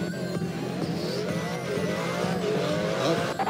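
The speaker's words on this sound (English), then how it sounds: "Oh, the first car goes spinning off." A race car in a browser video game spins out, its engine whining and tires squealing continuously, loud and close, with no voices over it.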